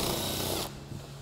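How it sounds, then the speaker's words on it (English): Power nibblers cutting trailer sheet metal give a loud, steady rasping buzz that cuts off abruptly partway through, leaving a quieter hum. "I've got a set of nibblers that I'm going to use just to speed things up"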